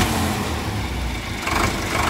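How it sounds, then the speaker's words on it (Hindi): A Sonalika DI 750 III DLX four-cylinder tractor engine runs loudly and close in a village field while pulling a rotavator, a dense steady rumble that swells as it picks up speed. "दोस्तों ट्रैक्टर की आवाज़ देखो कितनी शानदार आवाज़ है, और ट्रैक्टर जो है चार सिलेंडर में है"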